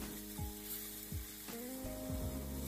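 Beef tenderloin steak searing in a hot pan at home, a steady loud sizzle and crackle of frying with occasional stirring or tong clicks, no voices.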